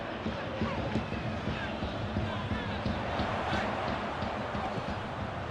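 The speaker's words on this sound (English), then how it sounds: "Crowd appreciates good football all round there." A stadium crowd in a football video game sends up a broad, steady roar with scattered swells of cheering, running the whole time at a moderate level while a commentator may talk over it.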